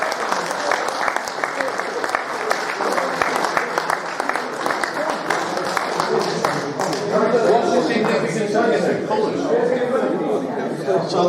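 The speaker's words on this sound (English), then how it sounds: "Can we have another round of applause for the personality of the year?" Loud, sustained applause from a crowd at a dahlia society meeting, steady clapping throughout with some chatter and voices mixed in.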